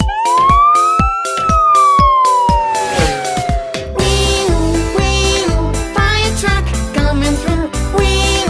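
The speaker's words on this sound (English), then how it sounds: "It's a siren, that's what it is." A loud electronic toy fire truck siren wails, its pitch rising and then slowly falling, before a rhythmic beat and jingly tune take over, toy-like and close.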